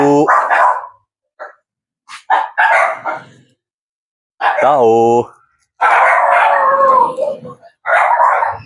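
Dogs bark and howl in short, sharp bursts between quiet gaps, with a voice speaking briefly nearby.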